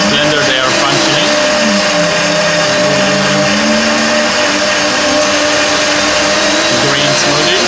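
Two vacuum blenders, a Breville Super Q and a Kuvings SV500, blend a green smoothie of almond milk, banana, strawberries, honey and spinach, making a loud, steady motor whir that fills the whole stretch without pause.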